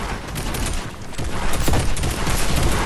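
Sniper rifle fire in a shooter game, heard as a loud, continuous crackling barrage of gunfire with a few sharper reports standing out, close and dense throughout.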